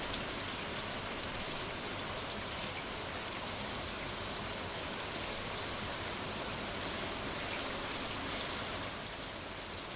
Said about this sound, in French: Ah, la pluie.